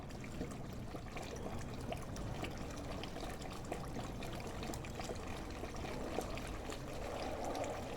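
Hot water from a solar pool heater flows and trickles steadily as a faint, continuous splashing stream with no voices.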